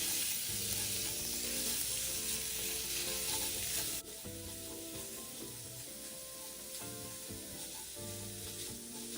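Minced pork being stir-fried in a wok with dried shrimp and minced garlic, a continuous close sizzle with scraping stirring strokes; the sizzle drops slightly in level partway through and carries on steadily.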